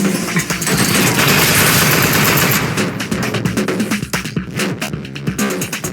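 A turret in the Aperture Desk Job video game fires: loud, sustained rapid gunfire that rattles on for several seconds, then breaks into choppier bursts.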